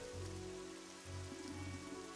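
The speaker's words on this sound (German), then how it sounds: "Es regnet hier sogar." Steady rain falling in the video game Evoland 2, a constant broadband hiss of drops on surfaces with a low droning background running under it for the whole stretch.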